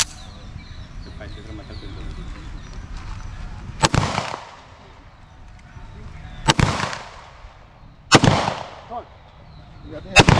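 Handgun shots during a firearms safety drill, four sharp loud reports fired at uneven intervals, separated by quieter stretches of background noise.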